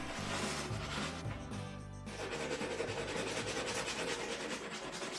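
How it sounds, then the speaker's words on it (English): A hand grout saw scrapes squeezed-out mortar from the joints of a chevron tile backsplash on a laundry room wall, a steady close rasping rub that runs nearly without a break. "This tool is called a grout saw, and you can use it to clean up any mortar that squeezed into the cracks."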